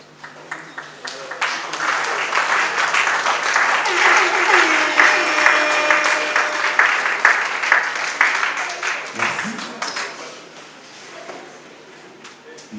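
Audience applause in a parish hall during a celebration: a sustained round of fairly loud clapping from a gathered congregation, building and then tapering off near the end, with faint voices underneath.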